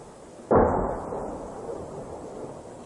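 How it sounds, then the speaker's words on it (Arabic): A single distant shell explosion during bombardment of the town of Arbin in rural Damascus: one sudden heavy boom followed by a long rumbling decay into the background. "قصف على مدينة عربين من إدارة المركبات"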